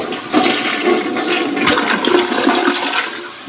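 A Keto low-flow toilet rated at 1.28 gallons per flush runs its factory flush, a loud, close rush and swirl of water that holds steady for several seconds before tapering off.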